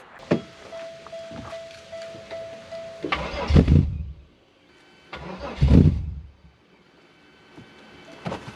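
A 1999 Pontiac Grand Prix engine running E85 fuel on its first tune cranks and catches twice, each start bursting into a rough, loud rumble that fades, with a steady whine and clicks before it.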